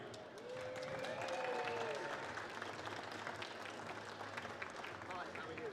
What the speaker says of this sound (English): Big round of applause because we actually have our next guest here